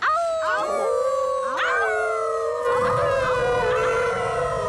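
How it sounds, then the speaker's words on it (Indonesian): A voiced cartoon pup howls into a microphone at a rock concert on a rock, giving a few long rising and falling howls that overlap and ring out loudly. "Saatnya melolong."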